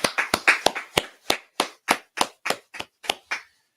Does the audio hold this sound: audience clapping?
yes